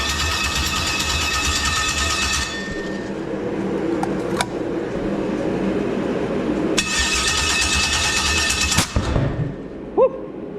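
An engine on an engine stand, with its fuel pump pressurized, cranks and fires, then runs briefly at a loud, rough, revving idle. The engine cuts out and restarts before a short final burst.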